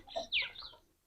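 A brief, faint cluck from an Aseel chicken in a small cage in a rural setting, one short squawking call lasting under a second.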